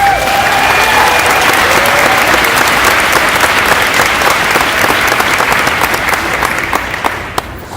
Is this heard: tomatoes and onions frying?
no